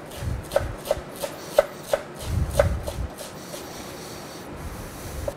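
Knife chopping radish tops finely on a cutting board, a string of crisp, close taps at an uneven rhythm, with a few louder board knocks.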